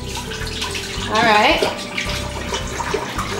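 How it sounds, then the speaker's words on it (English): A gallon of whole milk pours into a stock pot on a stove, a steady splashing liquid stream that swells briefly in the middle while someone speaks over it. "we're gonna take our gallon of whole milk and we're gonna pour it right into our pot"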